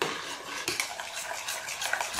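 Butter melts in a pot for a chocolate-filled doughnut cream while a utensil stirs it, with soft rhythmic scraping and clinks over a faint sizzle, close and alone.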